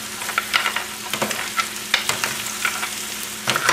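Clams going into a sizzling pan of lobster fra diavolo, with a steady frying hiss broken by repeated clinking bursts as the shells drop in and get stirred, close and moderately loud.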